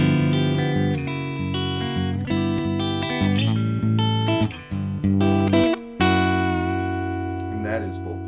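Reverend Double Agent electric guitar with both pickups on and all controls wide open, playing a clean lick of sustained chords and single notes, close and steady, with brief pauses near the end.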